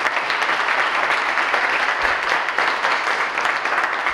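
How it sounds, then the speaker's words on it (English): Audience members at a college scholarship ceremony give a sustained round of applause, dense and even clapping filling the room at steady volume for several seconds. "One last round of applause for everyone here today."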